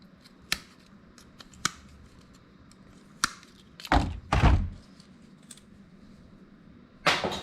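Cutting wires inside a DirecTV receiver box while stripping it for parts: a few sharp, isolated snips and clacks, then heavier thuds of pulling and handling components, close and fairly quiet.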